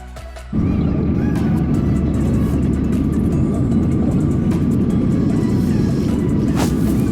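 A steady, loud roar of jet engines fills the cabin as an Air India airplane descends over the sea toward Thiruvananthapuram, a constant drone without pause.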